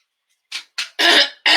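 A person coughs from allergies: two short, soft coughs followed by two louder, harsher bursts, close and dry, with no talking.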